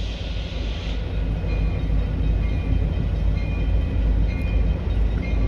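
A train rolls steadily past a downtown crossing in a no-horn zone, a loud, continuous rumble and clatter of railcars throughout. Any horn blast is faint and brief at most.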